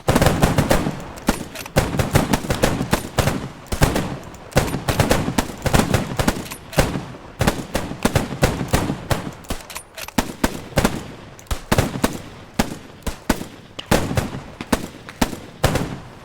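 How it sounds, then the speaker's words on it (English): Platoon rifle volley fire in the Squad 44 video game, dense irregular bursts of many sharp gunshots cracking near and far over about sixteen seconds, loud, with no talking. "So first platoon, 5 rounds, intermittent firing, fire!"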